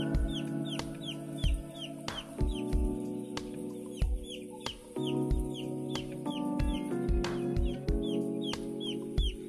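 Four-day-old broiler chicks cluck and peep steadily inside a closed poultry house, a dense, close chorus of short overlapping calls over a constant low machinery hum, with no talking.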